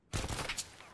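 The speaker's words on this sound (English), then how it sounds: "Oh, he's trying to shoot at me." A short burst of enemy gunfire in a video game shooter, a few quick rattling shots heard faint and somewhat distant within under a second.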